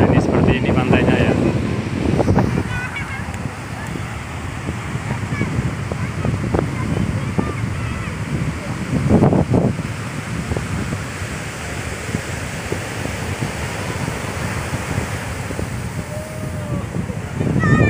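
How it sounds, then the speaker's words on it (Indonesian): Wind buffets the microphone over a continuous roar of surf at Watu Kodok Beach, Gunung Kidul, Indonesia, with waves surging and washing in repeatedly; a voice speaks faintly beneath it. "Nah, ini seperti ini pantainya ya."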